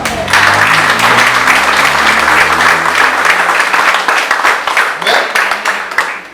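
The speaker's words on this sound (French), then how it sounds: "Et nous pouvons acclamer Jésus comme ça." A church congregation claps and cheers together at a Sunday service, loud sustained applause that swells at once and then tapers into scattered claps, with a voice speaking briefly over it.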